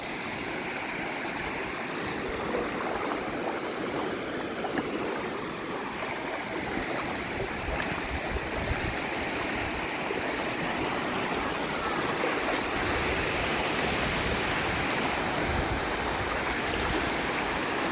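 Sea waves at Bakkhali beach on the Bay of Bengal: a continuous, dense wash of surf and rushing water, steady and fairly loud throughout, with no clear voices.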